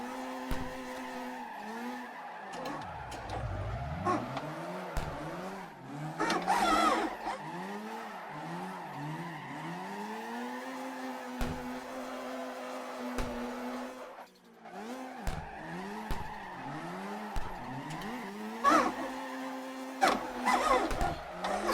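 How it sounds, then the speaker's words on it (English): CarX Drift Racing car drifts and slides sideways, the engine note rising and falling in repeated sweeping revs under a steady tire squeal. The sound carries on for a long stretch with a brief dip midway. "This car very much feels like it's on ice, the way it just slides around."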